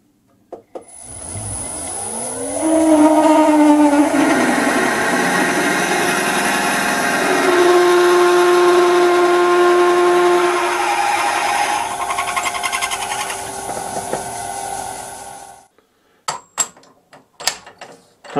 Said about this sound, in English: Here comes the 10 millimeter drill, and I will finish this with the boring bar just for fun.